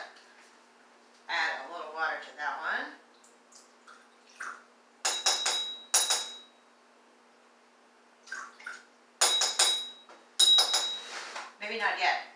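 Glass bowls struck as tuned musical instruments: bright clinking, ringing strikes in scattered clusters, close and moderately loud, with a person talking between the hits.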